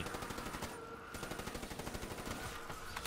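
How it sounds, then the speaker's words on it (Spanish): Rapid automatic gunfire from a zombies custom map video game, a steady fast rattle of shots that runs nearly unbroken, fairly faint and heard alone without talking. "estoy disparando"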